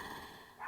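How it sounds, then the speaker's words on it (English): Dogs barking in the distance: a faint, brief bark rises near the end over a quiet indoor background. "Oh, there goes the dogs."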